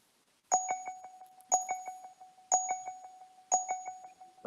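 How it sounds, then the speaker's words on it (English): A mock draft app's bell sounds four clear, bright dings at about one-second intervals, each ringing out briefly before the next, with no voices. "why is the bell going?"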